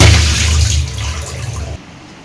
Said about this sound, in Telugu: వాటర్లో వేసి మంచిగా కడుక్కుందాం